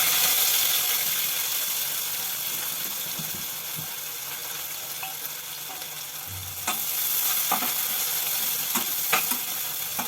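Cumin, a pinch of asafoetida and green onion sizzle in hot oil in a pan for a Kathiyawadi brinjal olo. A steady, close frying hiss with a few sharper crackles and spits, and no voices.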